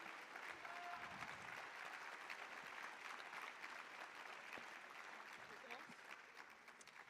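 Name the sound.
audience applause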